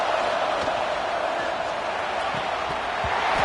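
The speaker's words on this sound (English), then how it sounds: "listen to this crowd noise. This stadium is vibrating." A dense, steady roar from a packed stadium crowd in the College Football 26 video game fills the whole stretch at an even, loud level, with scattered faint thuds beneath.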